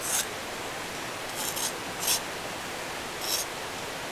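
A tool scrapes clay off a thrown pottery piece with a continuous raspy rubbing, close up, broken by a few sharper strokes.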